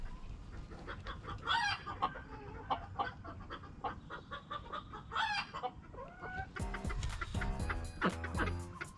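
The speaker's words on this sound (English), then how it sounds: "There's a lot of roosters over there." A flock of roosters and chickens clucks steadily nearby, with two loud crowing calls standing out over the chatter and a burst of layered crowing and squawking near the end.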